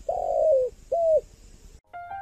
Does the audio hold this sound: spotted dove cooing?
yes